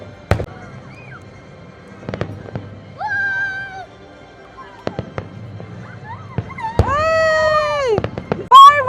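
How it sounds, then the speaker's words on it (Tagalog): Fireworks burst over the Global Village in Dubai during the nightly 9 p.m. show, a series of sharp booms and crackles spread across several seconds, with excited voices from a crowd cheering and talking between the blasts. "Fireworks! Ang daming fireworks!"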